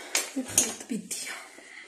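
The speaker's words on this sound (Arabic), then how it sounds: "كنخلط بيديا." Chopped olives and liver being mixed by hand in a dish, with soft irregular squelching and a few light clinks against the dish over barely two seconds, close and quiet.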